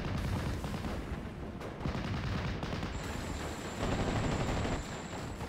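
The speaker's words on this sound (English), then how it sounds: "They do only have one LMG. It is the Browning 1919," A Browning 1919 machine gun fires during a World War II battle game, with dense, steady bursts of gunfire blending into a continuous loud clatter alongside other weapons.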